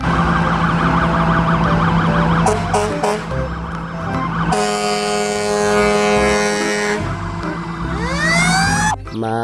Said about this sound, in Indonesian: Wow, lihat, yang ini mobil pemadam kebakaran.